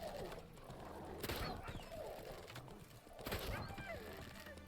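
Horse hooves clip-clop at a steady galloping rhythm in The Witcher 3, close and continuous beneath busy game ambience with faint bird-like chirps.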